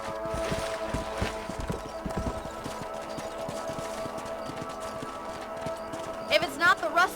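Horses in the Red Dead Redemption video game clip-clop along at a steady pace, hooves thudding repeatedly amid game music, with a brief whinny near the end.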